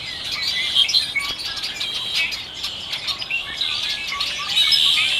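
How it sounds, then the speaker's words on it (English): Winter birdsong on Salt Spring Island, Canada, with quail among many small birds chirping and tweeting continuously at a moderate distance, bright overlapping calls over a soft outdoor hush. "There's quail in there too."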